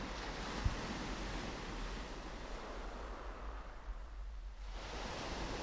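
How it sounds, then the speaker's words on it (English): Water washes against the stone walls of a harbour in a steady, unbroken surf-like rush that fills the whole stretch, with a small bump in intensity near the start and no voices. "following the sound of the water as it climbs the stone walls of the harbour"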